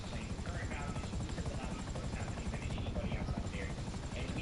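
Rotor chop from a helicopter in GTA 5 pulses steadily and fairly quietly throughout, with a person talking over it.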